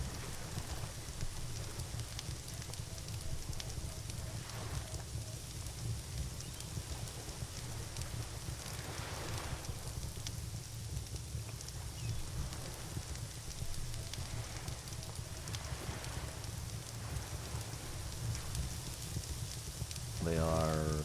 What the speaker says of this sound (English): Cooking some crabs over an open fire.